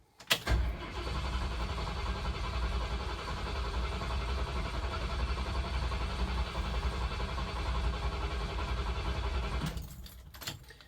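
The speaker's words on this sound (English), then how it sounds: "It'll probably take me about 30 seconds to start the truck" A 1979 Ford Bronco engine cranks briefly, then catches and roars into a steady, loud idle that runs on before cutting off near the end.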